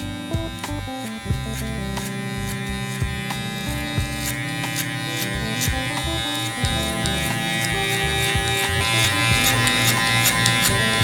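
Electric hair clippers fitted with a half guard buzz steadily while cutting a low taper, a close, continuous motor drone with faint rhythmic shifts as the blade passes through the hair.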